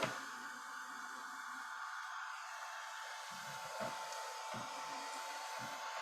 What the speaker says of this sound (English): I've got to hit it with the heat gun so that it dries